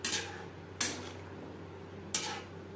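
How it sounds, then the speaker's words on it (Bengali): Three sharp clanks of a spatula against a pan ring out over a low cooking hiss as marinated hilsa fish is turned through mustard masala. "মশলার সাথে মাছ বেশ ভালো করে মিক্সড করে দেব।"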